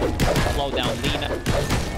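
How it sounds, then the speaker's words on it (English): Dire's bottom tower being destroyed in Dota 2 brings a flurry of close smashing thuds and crashes with a faint chime, all beneath steady voices talking. "Dire's bottom tower has fallen"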